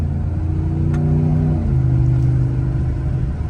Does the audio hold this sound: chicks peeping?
no